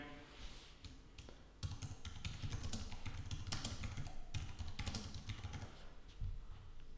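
Light, quick typing on a computer keyboard while a file name is entered, soft irregular key taps running continuously at close range with no talk.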